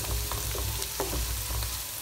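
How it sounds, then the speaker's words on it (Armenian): Onion browns in a frying pan with a dense, steady sizzle and low crackle, with a few soft scrapes of stirring over the short stretch. "այսպես շատ լավ կարմրեցնում ենք սոխը։"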